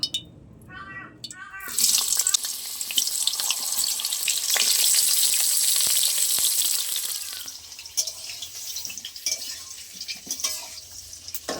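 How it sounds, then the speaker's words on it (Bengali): Sliced pointed gourd (potol) hits hot oil with a sudden loud sizzle after a brief quiet start, then keeps frying steadily with some scraping and clinks, easing off near the end. "পটলগুলো আগে ভালো করে ভেজে নেব"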